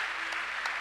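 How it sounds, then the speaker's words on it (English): A church congregation gives a short, fairly faint burst of clapping lasting under a second, with a couple of slightly louder claps standing out. "Clap for Jesus!"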